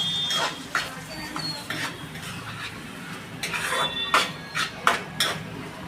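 Green chili paste sautéed in oil in a pan, with repeated spoon scrapes and clinks against the metal under a faint steady sizzle, sharper strokes clustering toward the end.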